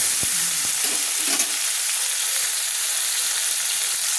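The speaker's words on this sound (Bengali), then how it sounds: "দিয়ে আলু আর টমেটোগুলো আমি একসঙ্গে কিন্তু আমি ভেজে নেব।" Sliced potatoes and tomatoes frying together in oil for a cauliflower and fish curry, a dense loud steady hiss of sizzling with a few low stirring knocks at the start, no talk.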